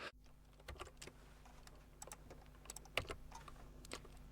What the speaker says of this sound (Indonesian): Tekan tombol E pada keyboard Anda.